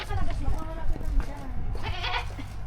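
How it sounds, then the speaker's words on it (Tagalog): A goat bleats with wavering, nasal cries, close by at a farm, while people talk over and around the calls. "Kambing."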